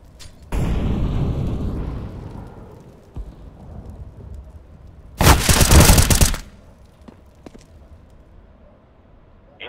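An incendiary grenade in Counter-Strike: Global Offensive lands with a loud whoosh that settles into a crackle, then a second loud burst of roaring, fiery noise flares for about a second before fading to quiet.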